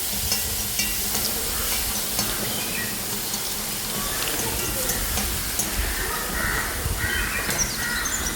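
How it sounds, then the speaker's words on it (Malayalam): Vegetables being stirred in a frying pan, a steady sizzle with scraping stir sounds, heard close with faint voices and background noise, for a healthy home-cooked dish. "ഇങ്ങനെ ഇളക്കാം."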